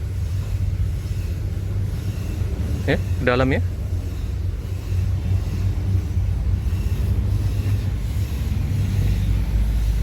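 Sinar Jaya tour bus engine running while a mechanic checks it: a steady, deep rumble filling the whole stretch, with someone speaking briefly over it.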